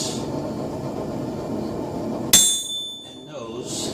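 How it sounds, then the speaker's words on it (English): A single sharp ringing metal strike as a square punch is hammered into metal to set eye sockets on a forged wizard bottle opener, with a bright ring that decays after the hit. "I just use a square punch to set off eye sockets"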